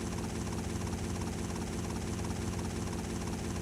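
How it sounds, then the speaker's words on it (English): A helicopter flies in GTA Vice City Stories, its rotor thumping in a fast, even pulse beneath a dense, constant engine roar that holds steady and loud from start to finish. "this isn't a very fast helicopter"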